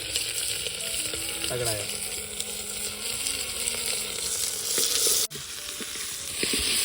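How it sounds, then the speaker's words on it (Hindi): Peas, carrots, capsicum, onion, tomato and masala fry in oil inside a pressure cooker at a campsite, a dense, loud, continuous sizzle close by with a few stirring knocks and a brief spoken remark. "मसाला भी लगभग हो चुका है मिक्स, और बढ़िया से फ्राई भी हो गया है"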